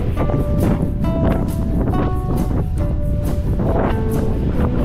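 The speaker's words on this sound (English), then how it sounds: "An update on the wind, it's brutal." Strong gusting wind hammers the microphone during a mountain bike ride on trails, a loud continuous roar and buffet that fills the whole stretch, with faint tonal whistles riding on top.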